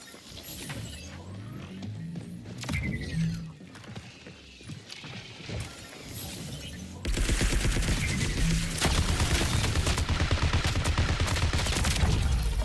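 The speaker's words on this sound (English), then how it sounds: "What gun is that? It's just the bully SMG." Bursts of bully SMG automatic gunfire in the video game Marathon, rapid rattling volleys growing louder and nearly continuous in the second half amid other game noise.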